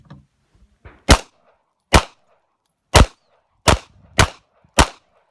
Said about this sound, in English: shooting one-handed with targets at different distances